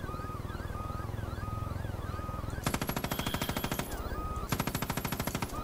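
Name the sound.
gunfire shooting at enemies in a video game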